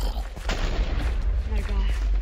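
Booming, rapid gunfire bursts in Minecraft come loud and dense, with heavy low-end thumps, while a panicked voice shouts over the shooting.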